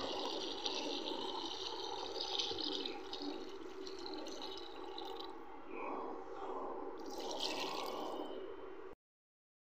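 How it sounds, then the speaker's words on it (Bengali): Water poured into a pan of simmering gourd and rohu fish curry, a steady liquid pouring and splashing that runs continuously for several seconds at moderate volume, then cuts off abruptly. "এখন আমি এই পর্যায়ে দিয়ে দেবো এর ভিতরে ঝোলের পানি"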